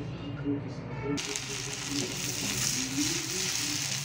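Onion and whole garam masala hit hot oil in a pan, and a steady broadband sizzle switches on abruptly and carries on loud and close. A faint low hum and some background voice sit beneath it.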